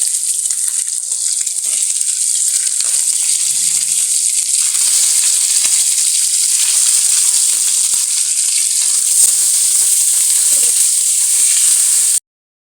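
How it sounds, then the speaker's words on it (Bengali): Rui fish pieces fry in hot oil for a curry, giving a loud, steady sizzle and crackle that holds evenly for about twelve seconds and then cuts off abruptly. "ঝোলের জন্য মাছ ভাজি দিয়ে দিচ্ছি।"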